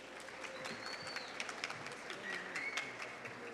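Audience applause greeting a coordinator at a human rights education lecture, a steady patter of clapping at moderate level with scattered louder claps and a little crowd noise.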